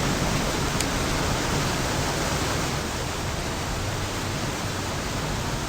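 Stormy seas in the Deadliest Catch video game: a steady, loud roar of wind and crashing water fills the whole stretch without letting up, with no voices over it.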